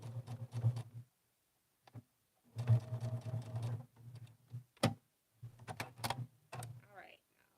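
A quilter's sewing machine stitching in place mid-seam, a steady close mechanical whirr in short bursts with pauses between, plus scattered clicks and taps.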